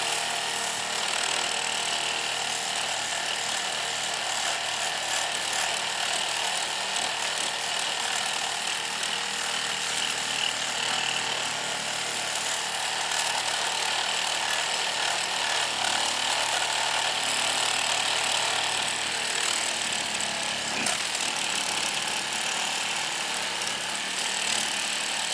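A RIDGID GEN5X MEGAMax power saw runs steadily and loudly for the whole stretch, a continuous harsh buzzing drone with no talking over it.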